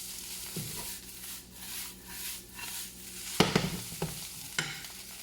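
Egg and rice fried in a pan, a soft sizzle broken by repeated scraping stirs and a few sharper knocks and shakes of the pan, close by with no voices.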